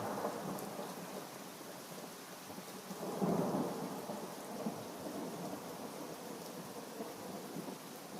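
A stormy night brings heavy rain pouring steadily with low rumbling thunder that swells briefly partway through, all under strong wind, with no voices.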